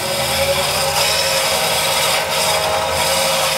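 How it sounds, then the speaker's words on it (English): A thin section of rock being ground on an Abele thin section preparation machine, giving a steady, loud whirring and gritty rasp that runs continuously and alone throughout. "And now I grind"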